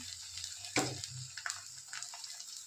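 Dhapate flatbread sizzles in a little oil poured over it on a hot pan, with a sharp splash of oil at first, then a steady, soft, close crackle with no talking.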